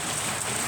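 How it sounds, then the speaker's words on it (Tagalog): Heavy rain pours steadily during a typhoon in Taiwan, a dense, even hiss that fills the whole moment without pause and with no voices over it. "malakas ang ulan, malakas ang hangin"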